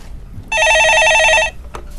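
An incoming call rings a telephone loudly and up close in a call-in studio, one sustained electronic warble of about a second that starts abruptly and cuts off, preceded and followed by quiet room noise.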